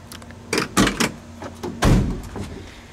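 Door of a 1965 Chevrolet Impala SS being opened, a run of close mechanical clunks and latch clicks over about two seconds, with a heavier thud near the end.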